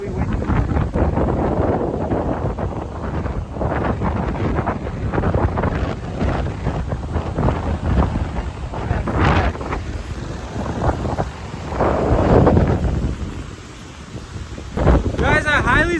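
Strong wind buffets the microphone by the sea in Bali, a loud continuous roar with gusts swelling and easing over rough waves, steady throughout with no voices.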